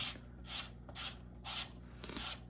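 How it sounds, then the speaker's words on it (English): Plastic barrel being twisted onto a Worker Seagull foam blaster, a tight fit, producing four separate rasping, grinding rubs in a quick uneven rhythm, close and alone. "You grab the barrel, you twist it."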